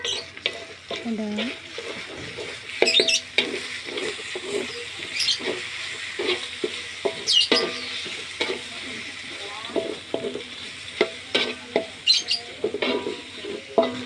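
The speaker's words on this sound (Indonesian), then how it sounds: "Kita mulai aduk ya" Sambal is stirred in a pan, with irregular scraping and clinking strokes over a low sizzle, close up and alone.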